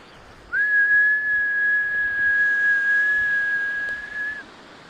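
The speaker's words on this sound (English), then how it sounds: "in certain conditions, these sands whistle" Whistling sand on a beach in north Wales: a single sustained high whistle holds one steady pitch for about four seconds, clear and fairly loud over faint background hiss.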